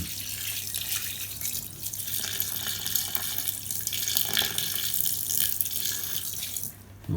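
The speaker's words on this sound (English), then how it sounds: "I'll get that filled with some water" Tap water runs into a container being filled for an Indesit ISDP429 Autopump spin dryer, a steady close hissing gush that carries on for the whole stretch without talk.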